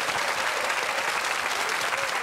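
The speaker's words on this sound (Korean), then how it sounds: "네, 네 박수." Applause from a military unit audience at a Korean army TV show taping, a dense, steady wash of many hands clapping throughout, loud and even with faint crowd murmur.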